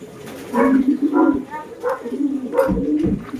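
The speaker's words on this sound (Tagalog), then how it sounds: "Kailangan lang natin itaboy itong mga ibon sa lapag" Pigeons on the ground at a breeder's loft with a fly pen, cooing softly and repeatedly at close range in short throaty phrases amid light shuffling.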